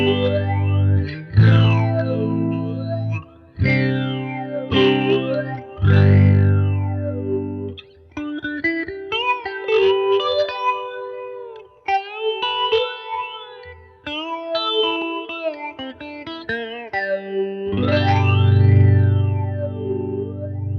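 A Catalinbread Many Worlds phaser pedal, in a mode with two competing sine waves, makes a heavily processed electronic tone sweep and swirl in pulsing phases, with whooshing modulation that speeds and slows across a long unbroken passage.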